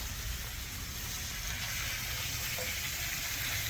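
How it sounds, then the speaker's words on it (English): Steaks sear in a hot skillet with butter over high heat, giving a steady, dense sizzle that runs unbroken and close throughout. "You have that nice sizzle, hands on high. Let that butter render through."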